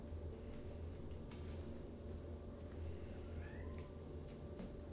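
A female cat meows softly indoors, a few short calls over a steady low background hum, faint and fairly close, with no talk.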